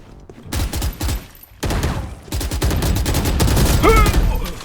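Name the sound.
gunfire in a video game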